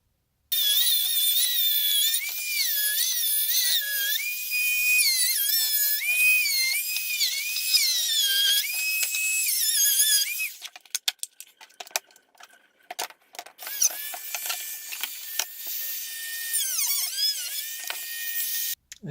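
Original interior trim on a Toyota Cressida being cut around a drop box shifter, heard as a sustained high whining rotary cutting tool with pitch wavering, then broken scraping, clicks and rattling handling noises, close and fairly loud.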